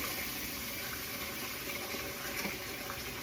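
Cold tap water runs steadily over rice being washed, a soft continuous splashing and hiss heard alone at low level.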